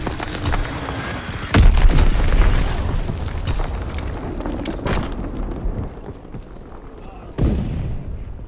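A bomb detonates in a military video game, a loud deep boom followed by rumbling blasts and crackling debris, with a second heavy thump near the end.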